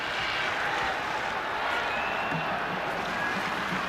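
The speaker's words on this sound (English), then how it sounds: "And their crowd's getting into it now." Crowd at a Division IV high school football state championship game, a dense, steady roar of cheering and noise heard from a distance with no clear breaks.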